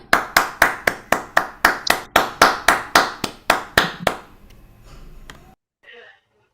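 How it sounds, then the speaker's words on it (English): About a dozen sharp, evenly spaced hand claps ring out close and loud at an online youth debate competition's award announcement for a runner-up, then stop, leaving a brief quiet tail with faint noise. "Can we please have a round of applause?"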